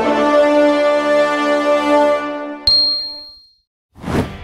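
A notification bell rings out with a long, shimmering ding that slowly decays, followed by a sharp metallic tick and a brief soft swish after a moment of silence.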